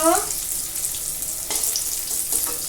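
Eggplant slices fry in a pan with a steady, close hiss of sizzling oil and a few faint clicks of a utensil.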